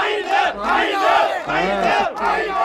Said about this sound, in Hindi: मुझे नहीं लगता कोई भी इस भीड़ की चीखों को अभी तक भुला पाया।